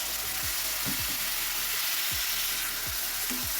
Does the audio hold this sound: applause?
no